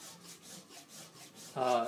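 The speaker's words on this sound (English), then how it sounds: "using a worn out Atoma number 600 diamond plate, and I'm going to make diagonal scratches on the blade to distinguish which" A worn Atoma 600 diamond plate is drawn across a yaki-patterned suita knife blade in steady, rhythmic rasping strokes, close and moderately quiet, with a brief louder voiced sound near the end.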